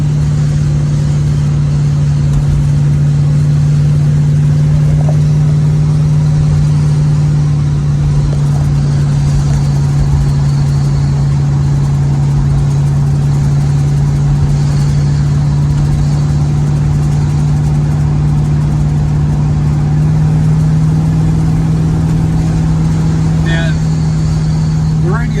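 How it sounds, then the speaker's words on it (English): A 1968-69 Dodge B-body car's engine drones steadily while driving, a loud, close, low hum holding constant pitch throughout with faint wind noise above it. "When I'm driving these cars, I just like to listen to them."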